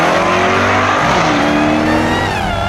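A 600-horsepower 2018 Jaguar XE SV Project 8 accelerates away hard, its engine a loud, dense roar that rises steadily in pitch, heard close with no voices.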